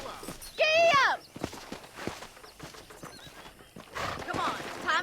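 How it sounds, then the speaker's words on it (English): A horse in the Red Dead Redemption video game whinnies loudly, then its hooves clip-clop at a walking pace, with a second neigh near the end and people talking over it. "I picked out a fine horse for you. Giddy up!"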